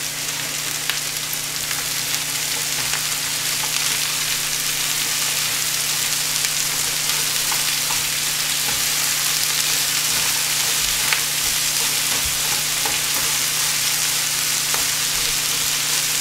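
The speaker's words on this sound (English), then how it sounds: "We got the garlic sizzling away here." Garlic, onions and chopped vegetables sizzle and crackle continuously in a hot frying pan for a frittata, a loud, close, steady hiss with occasional pops and no talk.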